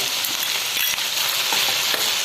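Green chillies and curry leaves sizzle and crackle in hot oil for okra mezhukkupuratti as they are stirred, a close, steady bright frying hiss with small pops and scrapes, no voices.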